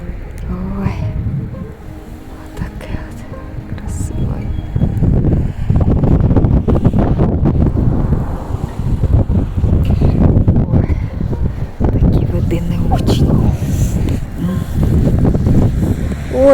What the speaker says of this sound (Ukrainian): а це тут вітер дує. Такий вітерочок дмухає на горі.